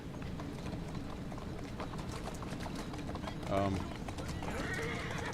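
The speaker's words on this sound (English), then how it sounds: "I cannot hear them talk with this freaking horse clanking" Rhythmic clip-clop of horse hooves under talking voices, with a brief whinny partway through, from the video game Assassin's Creed Syndicate.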